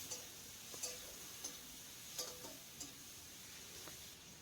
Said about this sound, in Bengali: টমেটোটাকে একটু নরম হয়ে যাওয়া পর্যন্তই ভেজে নেব